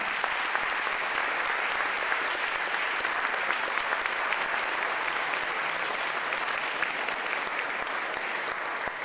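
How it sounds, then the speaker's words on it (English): An audience at a mayoral candidates' forum in Strawberry Hill applauds the candidates, a steady wash of many hands clapping throughout, moderately distant and even in level without a break. "How about one more round of applause for our candidates tonight?"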